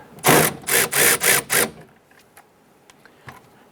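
A ratchet wrench loosens the window regulator bolts inside the driver's door of a 2005-2010 Chrysler 300, with five quick, loud, evenly spaced clicking bursts up close, followed by faint scattered taps and near silence.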